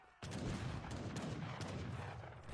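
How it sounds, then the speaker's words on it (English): Heavy cannons firing in a strategy video game, a sudden loud boom followed by a continuous rumble of overlapping blasts and impacts, dense and sustained. "It's just heavy cannon after heavy cannon after heavy cannon."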